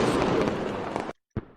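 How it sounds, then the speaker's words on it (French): A fireworks sound effect played during a live tabletop role-playing stream: a dense, loud crackling roar of bursts that cuts off abruptly, then one short, sharp pop after a brief silence. "je vais vous envoyer à nos super feux d'artifice"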